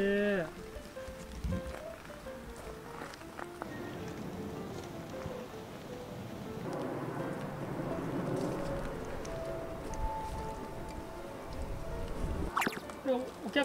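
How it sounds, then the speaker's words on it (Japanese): Sudden rain falling outdoors at a bonsai nursery, a steady patter of drops on surfaces that builds through the stretch, with scattered clatter and faint voices in the background. "急に雨が。"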